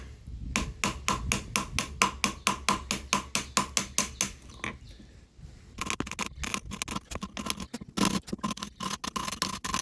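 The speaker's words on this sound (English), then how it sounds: "keep that part of that thing in the groove as you're chiseling this side here from the crevice up to the top of the tape there" Hammer striking a chisel to engrave a number into a stone paver for a disc golf tee pad, a steady fast series of sharp close metallic blows with brief pauses.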